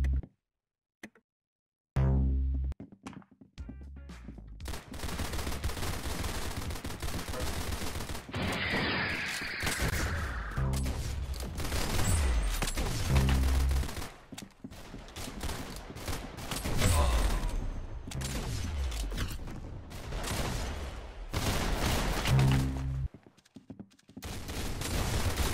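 Rapid gunfire in a shooter video game, with bursts and single shots cracking loudly through most of the stretch, plus brief gaps.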